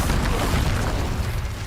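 Spell explosions from Confringo or Incendio in the Hogwarts Legacy video game, a loud, dense burst of fiery rumbling and crackling booms that fills the whole moment with no pause.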